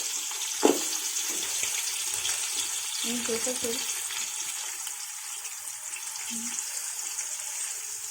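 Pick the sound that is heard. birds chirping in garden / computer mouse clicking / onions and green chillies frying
onions and green chillies frying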